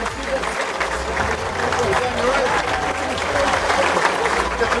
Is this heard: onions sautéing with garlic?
no